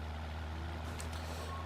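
Van driving in the video game Watch Dogs: a steady low engine drone with a brief high beep partway through, no speech.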